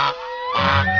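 A duck in a 3D animated fairy tale gives a short nasal honking quack, then a second, fuller one. Both are loud and close with no talking.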